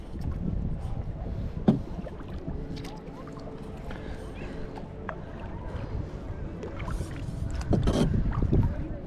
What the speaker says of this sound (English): Just use the paddle to direct yourself